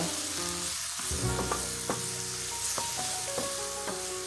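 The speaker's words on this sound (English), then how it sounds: "next I'm going to add in my minced garlic, and I'm going to saute that also." Minced garlic sautéing in a pan, a continuous close sizzle punctuated by several utensil taps and scrapes against the pan, with no one speaking.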